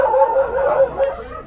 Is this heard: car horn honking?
no